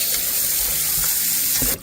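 A cow foot is rinsed under a running kitchen tap, water splashing steadily and loudly into the sink throughout, close up with no talking.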